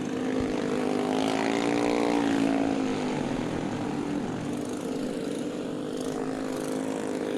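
Snowmobile race sleds in the Kitty Cat and 120 class scream past at a MIRA race in Traverse City, a loud sustained high-revving engine drone with shifting pitch, with no talk.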